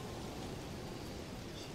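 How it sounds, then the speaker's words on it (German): Steady rain falls in Zelda: Tears of the Kingdom, a faint, even hiss of broadband patter with no breaks or distinct drops, heard alone without voices. "Ja, hier regnet es, auch wenn das Wetter was anderes sagt."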